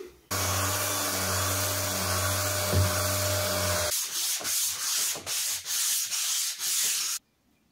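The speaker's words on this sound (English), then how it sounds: "So I took the opportunity to do a bit more fairing." A sailboat hull is faired with a power sander in a steady, loud grinding rub. It then breaks into short repeated passes with brief pauses between them and stops abruptly.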